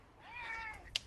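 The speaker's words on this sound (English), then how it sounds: "Show us the cats? Absolutely." A pet cat gives a single short, faint meow, gliding up and down in pitch, followed by a brief sharp click near the end.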